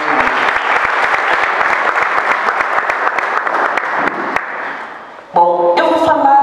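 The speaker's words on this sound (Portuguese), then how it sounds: "Uma salva de palmas para todos nós." An audience at a church women's gathering applauds, dense steady clapping that thins out and stops after about five seconds, followed by brief electronic tones.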